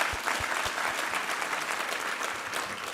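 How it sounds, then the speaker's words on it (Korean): A church congregation claps steadily together during a Sunday worship service, a dense, even wash of applause filling the room without any voices. "우리 하나님께 감사와 영광의 박수 올려드리겠습니다"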